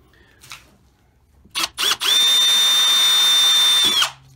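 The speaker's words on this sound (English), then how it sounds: "you drill a little pinhole right there in the very center" A couple of short bursts, then a small power drill with a center drill whirs steadily at high pitch for about two seconds, drilling a pinhole in an electric motor part, before spinning down, close and loud.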